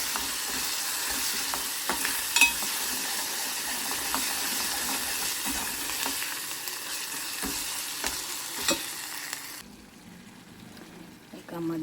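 Chana dal and onions crackle and sizzle in hot oil as a tempering, stirred with a utensil close up, with a continuous frying hiss that cuts off near the end.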